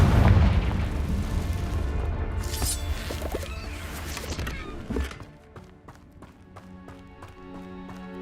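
A Confringo spell explodes in the video game Hogwarts Legacy, a loud booming blast with rumbling debris that fades into lighter game sounds and a soft musical tone.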